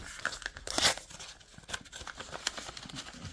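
Paper rips and crinkles up close as a mailed envelope of Magic: The Gathering cards is torn open, a sharp tearing burst followed by softer rustling and handling noises.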